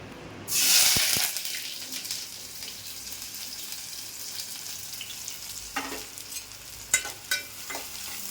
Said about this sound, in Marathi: तेल आपण आता कांदा टाकूया